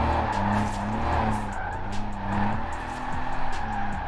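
Tyres squeal in repeated skids as a car slides through corners in Forza Horizon 4, with the engine droning underneath, close and sustained throughout.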